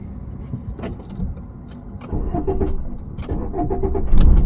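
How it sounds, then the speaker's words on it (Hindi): Car engine being started during a driving lesson, preceded by jangling keys and clicks, then the engine turning over and settling into a rising mid-loud hum near the microphone. "अभी फिर से क्लच दबाइए, इंजन स्टार्ट कीजिए।"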